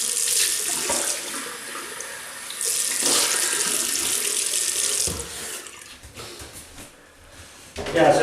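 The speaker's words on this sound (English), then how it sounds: "just rinse off now, water." Water runs from a tap into a sink to rinse off after a shave with a Wilkinson Sword Classic razor, a close, splashing rush that swells and fades, then thins out near the end.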